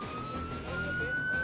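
An ambulance siren in Dubai wails steadily and slowly climbs in pitch over low traffic rumble, fairly faint and some distance off.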